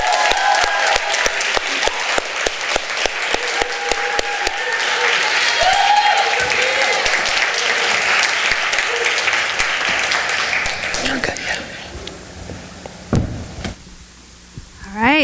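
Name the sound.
audience applause welcoming a speaker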